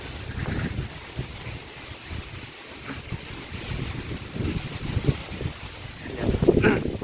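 Gusty wind buffets the microphone in rumbling waves under an outdoor murmur of voices, rising to a stronger gust near the end.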